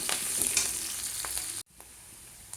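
Curry leaves crackle and spit in hot oil for a tempering, a steady broadband sizzle that cuts out abruptly partway through, then resumes fainter.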